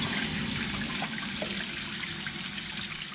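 A tap runs steadily while a newly installed Rheem tankless water heater, powered by solar, is tested, giving a constant close splashing rush of water with no talk.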